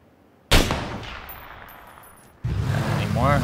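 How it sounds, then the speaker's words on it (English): A sudden loud burst of gunfire in the video game PUBG, then a sustained ringing roar that fades; after a brief drop, another loud rumbling blast with faint voice-like tones. "There's more gunfire to our south somewhere."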